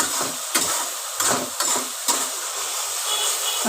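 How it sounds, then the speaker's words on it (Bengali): Ground masala of cumin and coriander powder is stir-fried in a pan, with a steady sizzling hiss broken by repeated scraping strokes of a spatula, close and clear. "এবার ভালো করে মশলাটাকে কষাতে হবে"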